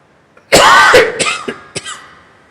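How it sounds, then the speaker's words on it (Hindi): A single harsh cough followed by a few shorter throat-clearing coughs, close and loud, with no talking. "ये तो पंगा हो जाएगा यार, खांसी का तो"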